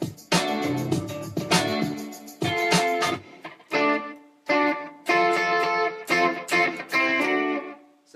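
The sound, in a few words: electric guitar riff with slapback delay and spring reverb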